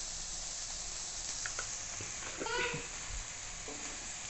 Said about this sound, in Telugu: ఈ పసుపు మొత్తం వీటిలో కలిసేటట్టుగా ఇలా వేయించుకోవాలి